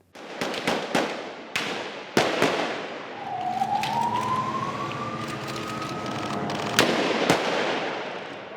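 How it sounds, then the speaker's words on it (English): Sharp gunshot cracks echo down a street in Jenin in scattered bursts, while a siren wails rising and steady in the background. "Soon, the sound of gunfire filled the streets of Jenin."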